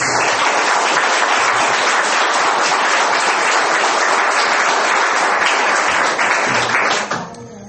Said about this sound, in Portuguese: vamos aplaudir bem forte a palavra de Deus